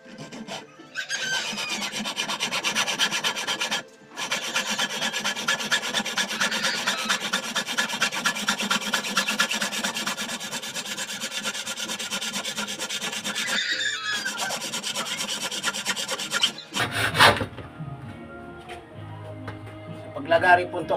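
A hand saw cuts steadily through an aluminium cabinet frame, giving a long, even run of close rasping strokes. It pauses briefly twice, and someone speaks near the end.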